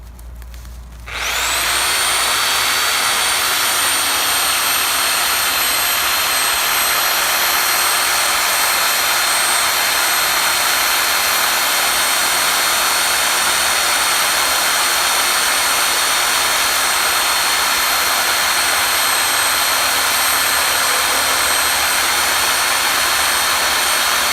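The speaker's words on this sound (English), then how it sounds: "Dang, this reciprocating saw is really powerful." A powerful reciprocating saw cuts through a 4-inch tree branch, a loud, steady, high-pitched buzzing drone that holds without a break for over twenty seconds after a brief start.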